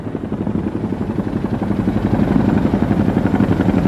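A helicopter drones nearby with a loud, rhythmic rotor chop that grows a little stronger, steady throughout with no voices.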